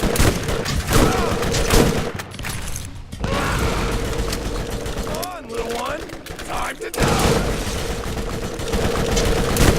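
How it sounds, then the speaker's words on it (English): Dense Borderlands combat rages with heavy gunfire and booming blasts from grenades in a loud, continuous din, a short lull in the middle, and a voice talking over part of it. "That's how grenades work, right? They just kind of explode on the enemy and don't really do much."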